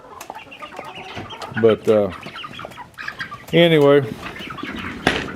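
Chickens with a rooster among them cluck in a farmyard, with a few loud, close squawks and brief rustling of wings; someone talks briefly over the birds.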